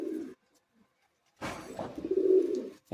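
Madrasi high-flying pigeons at a loft in Bagnan, Chandrapur, near Kolkata, give soft, throaty coos close by: one short burst, a pause, then a longer rolling coo.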